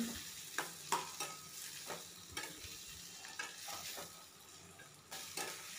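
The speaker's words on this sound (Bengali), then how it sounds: "টমেটোটা একটু লবণ দিয়ে নরম হওয়ার জন্য ভালো করে কষিয়ে নিচ্ছি" Chopped tomato with salt sautéing for crab curry, a steady soft sizzle with repeated scraping stirs in the pan, close and quiet.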